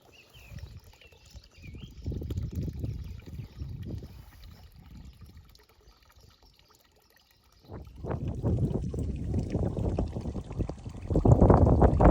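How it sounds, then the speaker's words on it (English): Water poured onto the soil around a newly planted banana tree in a garden bed, coming in two separate bursts of splashing and trickling with a quiet pause between them, the second burst longer and louder. "I need to water it too."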